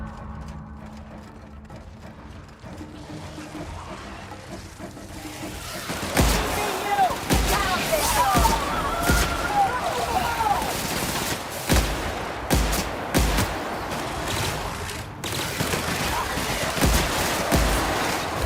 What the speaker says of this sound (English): let's get to shooting before I get all sentimental